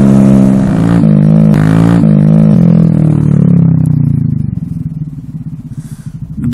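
A Honda Grom motorcycle with a new exhaust rides past loudly, its engine note rising and then sinking into a lower drone as it fades.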